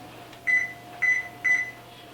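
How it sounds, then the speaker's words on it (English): Three short, clear electronic beeps come from an oven timer as it is set, evenly spaced about half a second apart over a faint steady appliance hum. "Put it in the center rack, the middle rack in the center, and then put on your timer."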